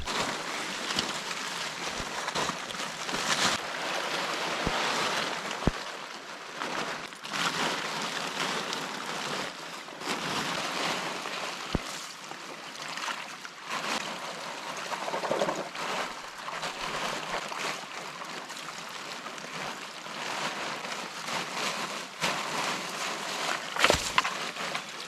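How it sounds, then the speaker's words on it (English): Water sloshing and splashing steadily as a tarp is washed to recover fine gold, a continuous broadband wash of flowing water close by with occasional knocks, no talking. "I'm probably going to fill the bucket and, I don't know, wash the tarp slow"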